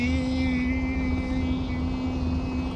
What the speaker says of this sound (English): I think I've lost control of this helicopter now